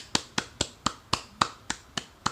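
A lone person claps a slow, steady round of about nine sharp, evenly spaced claps, close by and alone, tapering in a quiet room while tired, sore hands keep going in tribute to animator Sheila Graber.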